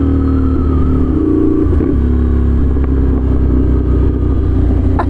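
A scrambler motorcycle with a very loud exhaust revs up close, a steady heavy engine roar with rising and falling pitch and rattling exhaust pops, no talk.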